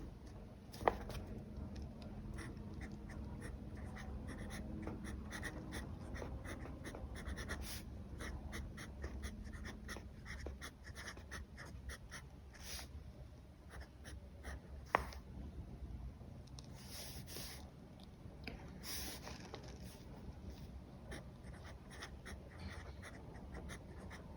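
A Franklin Christoph Model 46 fountain pen with an extra fine flex nib scratches across paper in faint, close strokes and short taps, with quiet, continuous room noise underneath.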